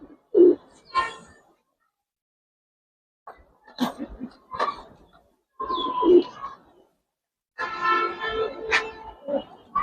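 Giribaj pigeons give several separate, close coos and throaty warbles with quiet gaps in between. A brief voice is heard among them.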